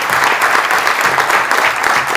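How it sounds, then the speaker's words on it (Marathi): Loud, dense applause from an audience at a gathering honoring a development officer, many hands clapping steadily and close for the whole stretch. "एकदा जोरदार टाळ्या."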